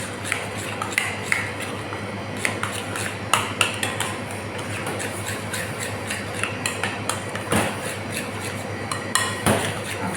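Za'atar chicken marinade with olive oil is stirred in a bowl, a utensil clinking and scraping against the sides in quick irregular taps over steady background hum, no voice.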